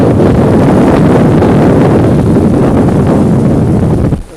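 Strong wind gusts roar past while sailing a yacht off Corsica with the genoa reefed, a loud, steady rushing buffet that holds for about four seconds before suddenly easing.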